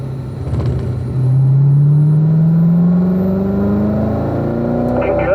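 A race car engine accelerates on the Spring Mountain track, a loud, steady roar climbing smoothly in pitch for several seconds as the driver gets back on the throttle, close and continuous with no talk.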